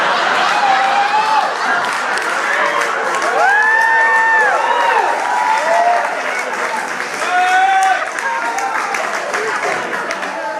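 Comedy club audience bursts into sustained applause and cheering after a stand-up joke, loud dense clapping with whoops and shouted voices running throughout.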